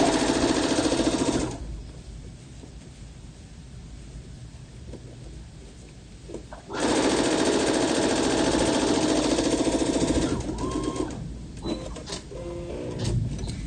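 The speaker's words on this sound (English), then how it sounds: "now I'm going to do some understitching" A sewing machine stitches fabric for understitching on a garment, running in loud rapid bursts separated by quieter pauses, with no voices.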